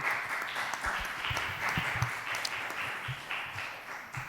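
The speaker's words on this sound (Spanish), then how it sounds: "Bueno, un aplauso." An audience at a public-employment talk gives a short burst of applause for a speaker, with scattered claps at moderate distance.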